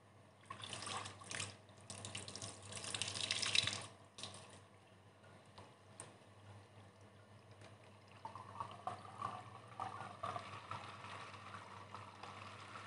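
Water from a tap running into a balloon to fill it, a quiet splashing rush that grows louder early on, then settles into a softer trickle and flow.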